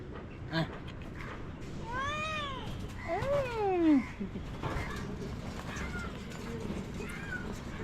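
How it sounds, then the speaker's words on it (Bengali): A cat gives two drawn-out rising-and-falling meows, close by, over a steady background hum with faint chatter and a few distant bird calls at a bird market in Mirpur-1, Dhaka. "কিউট বিড়ালটা মেউ বলো বলো"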